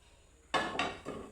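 Vegetables being ground on a shil pata stone slab for a vorta, three sharp, close knocking scrapes of the grinding stone in a quiet room.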